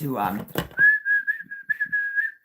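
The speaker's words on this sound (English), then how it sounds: "I do not know how to whistle other than to" Someone talks briefly, then whistles a steady, slightly wavering tone in a few short connected phrases, near and clear.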